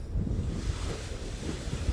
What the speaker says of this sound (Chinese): 然后这是海浪